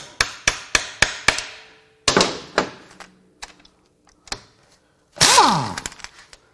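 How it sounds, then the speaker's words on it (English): A quick series of sharp metal hammer strikes on a part of a Volkswagen five-cylinder engine during teardown, about five evenly spaced blows, then a pause and a few scattered heavier hits, loud and close. "Let's hammer that thing in there."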